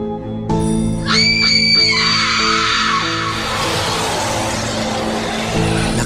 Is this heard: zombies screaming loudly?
yes